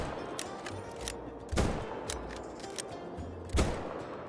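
Rapid gunshots ring out in a bear-hunting video game as five bears are taken down with one magazine, several sharp cracks spread over a few seconds, two of them louder and nearer, with no talking.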